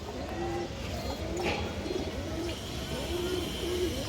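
Black pigeons coo in repeated soft rounded calls over a steady background hum, with a brief chirp and faint voices mixed in, close by.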